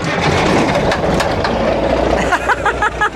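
A 1981 GMC cabover truck with a Big Cam diesel engine, long parked in bushes, cranks and rumbles loudly with rough low churning, while voices sound briefly toward the end.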